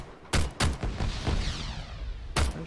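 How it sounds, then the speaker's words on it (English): Several loud, close gunshots in the video game Arma 3 ring out, a pair early on and another after a pause, with a reverberant rumble trailing between them. "Gunshots are loud."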